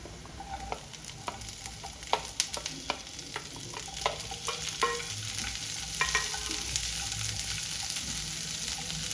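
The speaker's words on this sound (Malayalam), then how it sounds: "ഒരു വലിയ സവോള ഇങ്ങനെ ക്യൂബായി കട്ട് ചെയ്തത് പിന്നെ ഒരു കാപ്സിക്കം എടുത്തിട്ടുണ്ട് അത് ഇട്ട് കൊടുക്കാം" Cubed onion and capsicum sizzle steadily in a frying pan while a spoon stirs and scrapes through them, with sharp clicking stir strokes over a constant close frying hiss.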